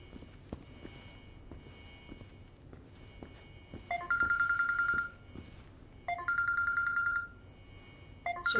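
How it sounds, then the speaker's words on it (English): A mobile phone plays repeated electronic notification tones indoors, three bright beeping bursts that are close and clear over faint room noise and a few light footsteps. "Sorry, if you hear that, it's my phone."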